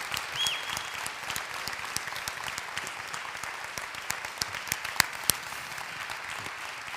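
A church congregation at a Sunday service in Lindakirkja applauds a singer, steady clapping from many hands at moderate distance, with a few sharper claps standing out near the end.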